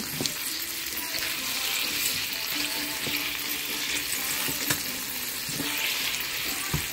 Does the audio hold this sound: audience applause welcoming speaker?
no